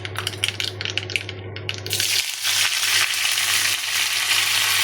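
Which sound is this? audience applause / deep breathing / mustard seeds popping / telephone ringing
mustard seeds popping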